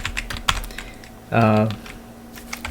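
Code being typed on a computer keyboard: light, uneven key clicks come close up in short bursts, broken by a brief tonal hum partway through.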